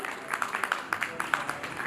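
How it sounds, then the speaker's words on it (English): Audience at the Pharma Ratna 2019 awards ceremony claps after guests are called to the dais, scattered hand claps in a hall, partly masked by an amplified voice speaking over them. "they deserve a huge round of applause"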